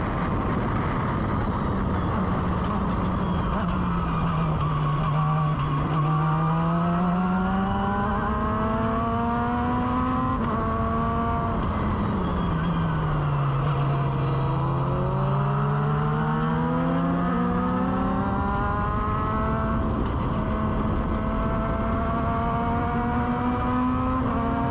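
A Formula Mazda open-wheel race car engine drones loudly and steadily through the first race lap, its pitch rising and falling through gear changes and corners, continuous and close without any voices.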